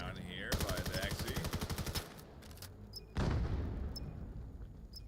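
Rapid gunfire in the VR shooter VAIL during a competitive match: a fast automatic burst of sharp shots, then a pause and a heavy boom with scattered distant pops, loud and close.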